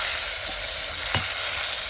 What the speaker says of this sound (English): Now I'm adding my tomatoes that